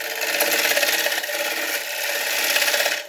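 A 3/8 gouge cutting the rim of an ash bowl on a wood lathe, shaving the edge with the side of the bevel. The cut makes a continuous, close, raspy hiss with a faint rhythmic flutter from the spinning wood.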